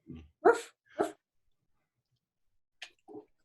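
A large dog gives a few short barks and gruff huffs in a quiet studio. The sounds come in isolated bursts separated by silence.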